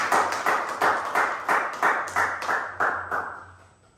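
A crowd claps in a steady, rhythmic beat, about three claps per second, fading slightly toward the end with no talking.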